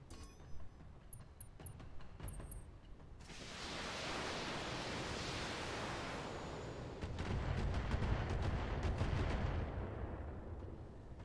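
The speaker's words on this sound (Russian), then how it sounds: "Это что, вот та вот пушка так адски жужжет?" A mech cannon in Battletech gives a loud, sustained harsh buzzing roar that swells after a few quiet seconds, then continues with a rapid stuttering burst of firing, with no voices present.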